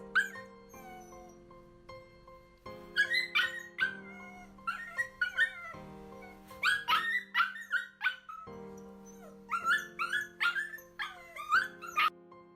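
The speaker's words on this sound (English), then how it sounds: "Listen to that dog again" A dog barks, yips and whimpers in short bursts of high, strained cries from a played-back video, over a background of steady tonal music, the calls clustering in rapid groups separated by brief pauses.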